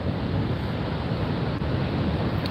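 Ocean surf washing ashore under a tsunami warning, a steady loud roar of waves mixed with wind buffeting the microphone, continuous and without talk.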